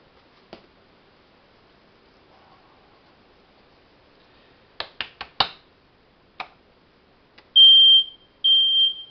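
A kitchen smoke alarm sounds two loud high-pitched beeps while food is being cooked, following a few sharp clicks and taps from the cooking.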